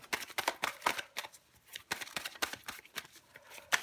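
Tarot cards shuffled and drawn by hand, a run of crisp papery riffles and snaps in irregular bursts, close and fairly quiet, with no talking.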